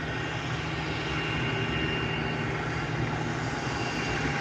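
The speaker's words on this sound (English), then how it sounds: "Our next arrival here is a Delta Airbus A220" Delta Airbus A220 airliner arriving at Santa Ana airport: a loud, steady broadband engine roar with a low hum, heard alone without talk.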